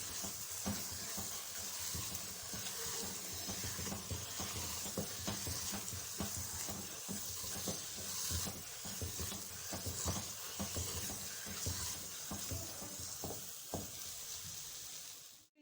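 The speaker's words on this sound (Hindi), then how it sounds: "दोबारा से फिर इसमें तेज़ी से चम्मच चलाना है, मिक्स भी हो जाए।" A spoon stirs aloe vera halwa briskly in an oiled pan, steady sizzling and frying hiss under continuous scraping strokes, close and loud for the whole stretch with no talk.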